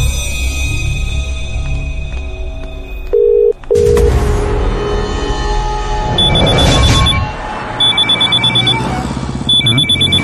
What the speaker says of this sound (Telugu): కొత్త ఫోన్కి ఫస్ట్ కాల్ రా